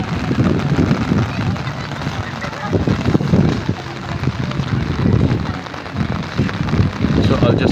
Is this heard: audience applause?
no